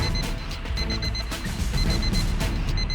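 An electronic alarm ringing on a suspected bomb in a stolen car, a loud repeating high-pitched beeping pattern in short rapid bursts over a low background rumble, continuous throughout.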